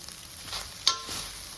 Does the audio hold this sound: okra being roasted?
yes